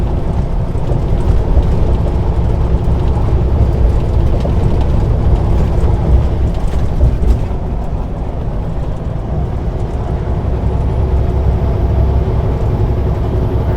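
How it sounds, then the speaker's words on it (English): Rain begins over the steady low drone of a truck driving up Kootenay Pass in British Columbia, a dense hiss of drops layered on rumbling engine and road noise throughout. "Oh, there starts the rain already."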